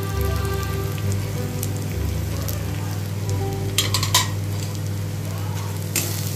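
Spices (chilli, turmeric and cumin powder) sautéing and being stirred in a pan for egg and potato curry, a steady soft sizzle with metallic clinks of a spatula against the pan, no talking.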